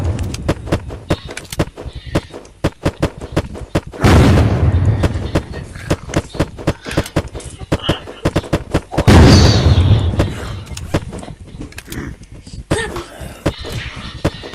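Dense bursts of gunfire in the survival game Unturned, sharp repeated shots with two heavier booming blasts, loud and close throughout, no talk.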